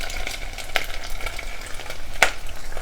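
Chicken flautas frying in very hot oil on a stove at medium-high heat, making a steady crackling sizzle with sharper pops now and then and no talking.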